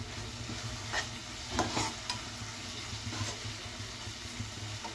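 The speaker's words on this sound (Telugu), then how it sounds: "ఒక 3 రెబ్బలు కరివేపాకు కూడా వేసుకోవాలి." Curry leaves crackle and sizzle in hot oil in a pan while egg palak curry is cooked, a steady close frying hiss with a few louder pops and stirring scrapes, no talking.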